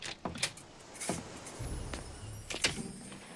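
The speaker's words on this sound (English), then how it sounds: "Door's open!" A door opens in a quiet room, heard as a few soft clicks and knocks from the latch and handle followed by a faint slide and thud, close by and with no talking.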